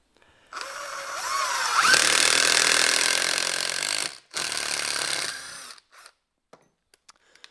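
A Hercules impact driver drives a screw in two loud bursts of whirring, hammering rattle, the first running about two seconds, then a brief pause before a shorter second run, followed by a few faint clicks.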